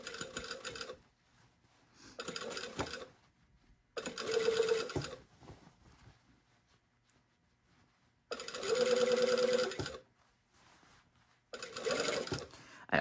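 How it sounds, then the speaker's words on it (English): A sewing machine stitches convex and concave fabric curves together in several short bursts of rapid mechanical whirring, separated by quiet pauses as the fabric is adjusted. "But you're also sewing convex to concave curves together"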